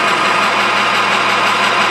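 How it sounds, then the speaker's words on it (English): A steady, dense mechanical drone from a machine drilling a deep hole into a 1018 steel shaft in a machine shop, loud and continuous with no pauses. "we're going to drill this pretty deep"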